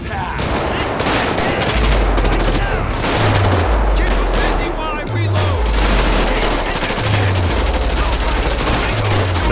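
Rapid bursts of automatic gunfire from a GTA 5 zombie survival mod, loud and continuous with low booming thumps recurring every second or two, a voice speaking faintly beneath.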